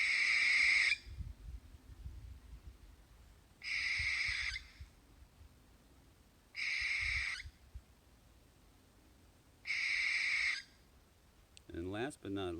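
An owl gives four harsh, screeching calls, each lasting about a second and spaced roughly three seconds apart, loud against a quiet outdoor background, with a brief warbling sound at the very end.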